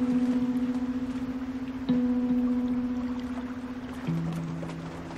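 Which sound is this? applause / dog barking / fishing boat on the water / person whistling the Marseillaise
fishing boat on the water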